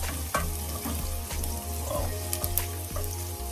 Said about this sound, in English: Just want to saute these for about a minute or 2.